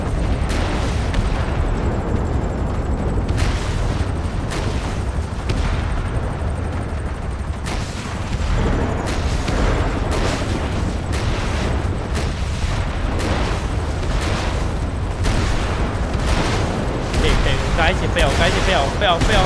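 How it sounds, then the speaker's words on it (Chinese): Bombs and missiles exploding nonstop as a tornado flings them around in a GTA5 mod, a dense rolling barrage of booms and blasts, loud and close, with an excited voice over the top. "哇，好多炸弹乱飞哦！"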